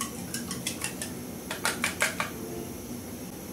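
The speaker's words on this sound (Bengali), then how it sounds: "এবার ডিমটা খুব ভালো করে ফেটে নিব।" An egg is beaten in a bowl with a utensil for a home recipe, giving a quick run of bright clinking strokes that bunch together near the middle before stopping, close and fairly loud over a low background hum.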